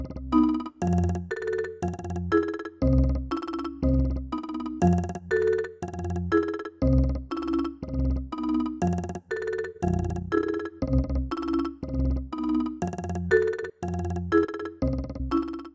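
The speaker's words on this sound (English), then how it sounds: "Try throwing thin delay repeats over a sound's transients, then dial in tonal tremolo settings to match volume movement to the transient's delaying groove" Eventide Fission plugin processing a sound, with tremolo and thin delay repeats on its transients: a steady run of rhythmic tonal stabs, each pulsing and echoing in a tight groove, loud and alone.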